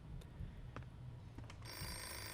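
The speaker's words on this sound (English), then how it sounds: "we gotta answer this phone" A telephone in the horror game Hello Guest starts ringing, a quiet electronic ring that rises out of a steady low rumble of game ambience, with no talking.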